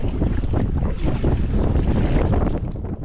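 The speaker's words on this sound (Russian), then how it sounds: "ветер встречный очень сильный" A strong headwind gusts over a boat on a spring taiga river, roaring steadily into the microphone with splashing water underneath and no talk.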